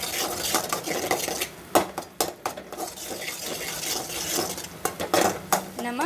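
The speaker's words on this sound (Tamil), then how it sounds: "ஃப்ரெண்ட்ஸ், முட்டையை இதோ இந்த மாதிரி நல்லா கிளறி விட்டுருங்க." Eggs being stirred in oil in a kadai, with a spatula scraping and clinking against the metal in irregular, close bursts over a low background hiss.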